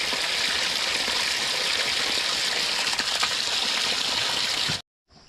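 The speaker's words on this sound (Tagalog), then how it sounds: "Meron na pong tubig. Dumating na po oh." Water gushes steadily through an unclogged water pipe that runs toward a pig pen. The rush is loud and continuous for nearly five seconds, then stops abruptly.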